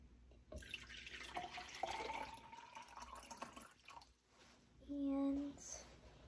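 Water poured into a cup, a faint splashing trickle with drips, then a louder filling gurgle near the end.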